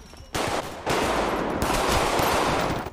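Sustained automatic gunfire from a GTA video game, loud continuous rattling shots that pause briefly then resume, with almost no talking.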